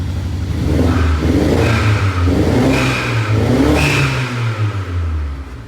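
A Mercedes CLA 45 engine runs loudly nearby, repeatedly revving up and settling back in a steady rising-and-falling pattern, with no talking.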